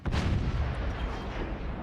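A howitzer shell from a fortress battle in the Forts strategy game lands near a shield, a heavy booming impact with a rumbling, sustained roar that fills the short stretch and slowly decays.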